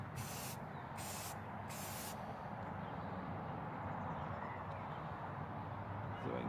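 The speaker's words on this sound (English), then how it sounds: "just like any camouflage spray job, first thing you want to do is coat it all in one color" A spray paint can hisses in about three short, loud bursts over the first two seconds as a solid base coat goes onto army surplus equipment for a camouflage paint job, then quieter background follows.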